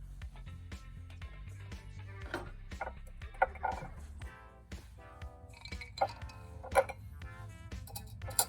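Ice and a whiskey old fashioned cocktail poured into a glass, with repeated light glass clinks and small taps scattered over a steady low background hum.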